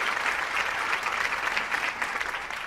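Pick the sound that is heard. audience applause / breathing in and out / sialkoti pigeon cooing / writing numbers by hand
audience applause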